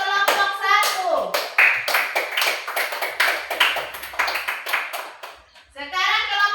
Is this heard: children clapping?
yes